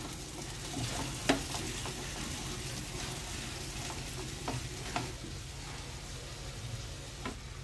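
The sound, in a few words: fried vegetables added and stirred in frying pan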